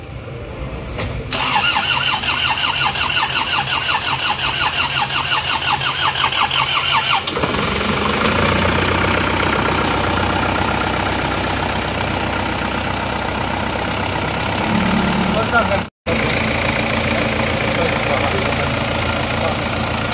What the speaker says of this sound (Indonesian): Kita starter mobil ini semoga lancar.